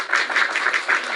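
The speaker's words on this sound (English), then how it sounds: "Let me give you a clap." Hand clapping: about seven steady, crisp claps in quick even rhythm, close and fairly loud with nothing else over them.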